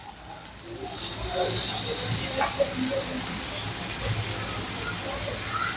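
Paneer tikka roasting over a medium flame, turned as it cooks: a steady sizzling hiss that swells after the first second, with scattered crackles and light scraping, close and fairly loud.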